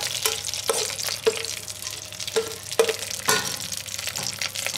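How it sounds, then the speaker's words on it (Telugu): Dried red chillies and curry leaves sizzling in hot oil for a tempering, a continuous close frying hiss broken by sharp crackles and spoon scrapes, no voices. "తాలింపు ASMR గైస్"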